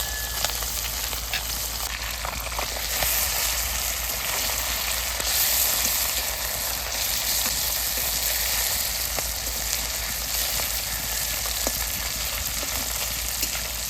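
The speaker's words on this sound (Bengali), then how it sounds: "মাছ ভাজা হয়ে গেছে এবার তুলে নেবো ছোট মাছ তো বেশি ভাজলে ভালো লাগবে না" Small river fish frying in hot oil in a home kitchen give a steady, continuous sizzle and crackle that runs unbroken and fairly loud throughout, with no talking.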